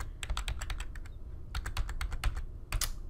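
Arrow keys on a computer keyboard are pressed in quick clicking runs, close and crisp, with a short pause midway before another flurry of taps.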